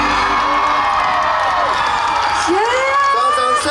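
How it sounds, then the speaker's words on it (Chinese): A concert crowd at a Halloween show in Taoyuan cheers loudly, a dense wash of shouts and whoops with rising voices near the end. "谢谢桃园，你们的声音真的很大声"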